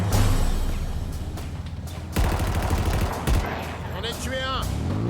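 Heavy gunfire in Halo Infinite, with dense bursts of rapid shots and sharp impacts rolling through a battle. Loud cracks jump out near the middle, and a voice is heard under the shooting.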